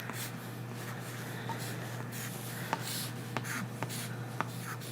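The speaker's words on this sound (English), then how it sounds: "So I'll write it right here just so you can visualize it better." Pen scratching out a math fraction during an Algebra 1 lesson, steady soft scraping with a few sharp taps, close and alone over a low electrical hum.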